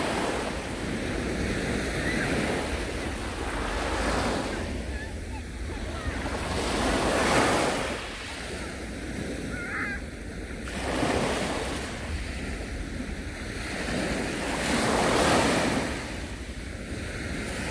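Sea waves wash onto a sunny beach in rolling surges every few seconds, a broad hissing roar swelling and receding under steady wind buffeting the microphone.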